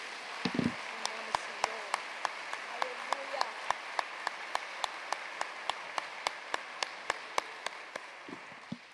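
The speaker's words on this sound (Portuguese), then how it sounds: "Pode aplaudir esse Deus" Congregation applause at a church service, a steady crowd of hands clapping with regular sharp beats, moderately distant and filling the room, with a brief voice near the start.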